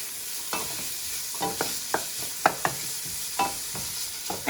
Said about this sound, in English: we want to really make sure you cook the pancetta really good